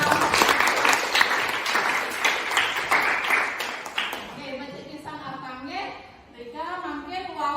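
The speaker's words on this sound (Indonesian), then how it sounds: "Tepuk tangan untuk atap" An audience breaks into a burst of clapping and applause that lasts several seconds, then fades as a speaker's voice takes over.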